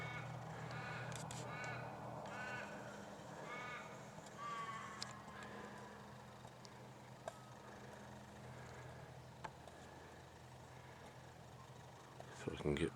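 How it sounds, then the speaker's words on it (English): A crow caws a few times early on in bushland near Waroona, fairly distant and mixed into steady outdoor rumble. Scattered faint calls and ticks follow, and a closer rustle comes at the end. "Crow calling there."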